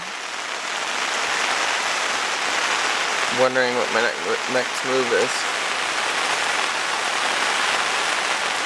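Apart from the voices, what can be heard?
pouring rain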